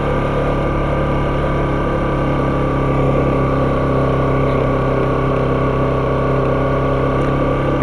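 A motorcycle engine held at about 5000 rpm drones steadily and loudly throughout, a constant close engine tone on a motovlog ride near Kayadibi, Giresun.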